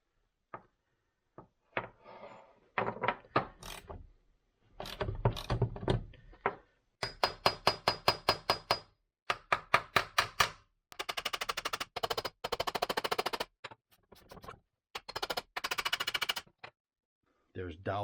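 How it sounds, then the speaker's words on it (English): Repeated metal tapping on the transmission countershaft of a 1998 Suzuki RM125 being worked loose from dowel pins, loud close rapid bursts of sharp strikes separated by short pauses. "So we're just tapping it and just taking our time and going nice and slow."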